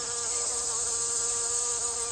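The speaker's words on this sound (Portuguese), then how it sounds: "Um importante grupo de polinizadores é o das moscas das flores" A steady, high, whining buzz of hoverflies beating their wings while hovering in a garden, close and continuous with no other sounds.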